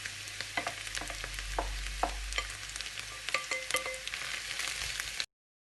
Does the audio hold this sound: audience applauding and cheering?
no